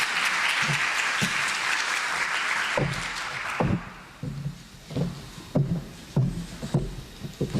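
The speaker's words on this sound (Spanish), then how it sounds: "Démosle por favor un fuerte aplauso." An audience at a product safety conference claps loudly for about three seconds, then the applause fades into scattered knocks and thumps.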